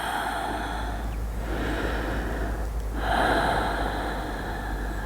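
Slow, deep breathing from a person resting in yoga child's pose, close and soft, with long airy inhales and exhales in a quiet room and no talking.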